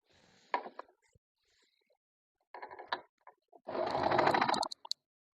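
A sewing machine stitching a fabric organizer in short bursts, the last and longest lasting about a second, separated by quiet pauses.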